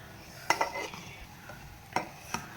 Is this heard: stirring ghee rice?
yes